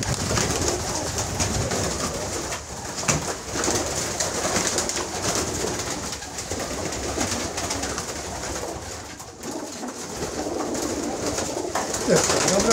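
About 47 pigeons coo steadily in a busy, noisy setting, with many birds calling and rustling at once, close and continuous.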